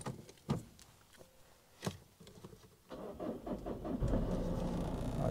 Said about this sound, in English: I put the engine on.